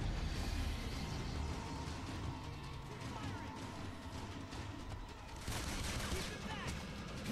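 Dense gunfire in the Wolverine X-Men Origins video game, a loud continuous clatter of rapid shots mixed with booming impacts, with voices calling out beneath the din.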